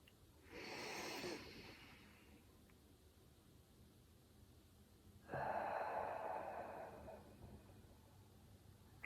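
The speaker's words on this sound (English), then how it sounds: "And I breathe from there." Two slow, deep breaths drawn from below the chest, above the diaphragm, during an awareness exercise; each is a soft, airy rush lasting a second or two, close and quiet, separated by a pause.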